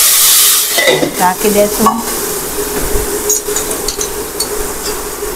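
Asafoetida, curry leaves and vegetables drop into hot oil with spluttering mustard seeds for a dhaba-style dish, setting off a loud, steady sizzle with stirring clatter and a few brief spoken words near the start.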